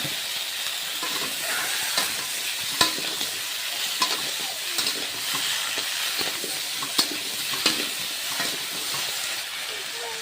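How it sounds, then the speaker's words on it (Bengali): Potatoes and Malabar spinach stir-fried together in a pan for a crab curry, giving a steady, close sizzle broken by sharp scraping stirs throughout, with no talking. "এবারে আলু পুঁই শাকটা ঢেলে দেবো দিয়ে একসাথে কষাই করব"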